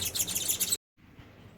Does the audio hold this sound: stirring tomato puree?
no